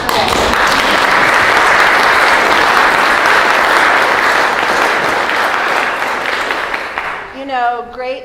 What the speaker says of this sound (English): you can clap, okay.